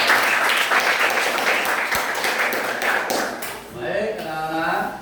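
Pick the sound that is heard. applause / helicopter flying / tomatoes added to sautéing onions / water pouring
applause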